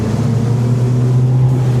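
Two 200 horsepower Mercury outboard engines on a Wellcraft 28 Explorer give a steady, loud, low roar at speed, with no talking over it.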